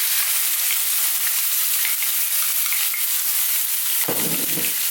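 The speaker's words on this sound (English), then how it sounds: "I'm now going to go in with our onions." Onions hit hot oil in a pan for a black urad dal, giving a loud, steady, close sizzle and fry throughout with no talking.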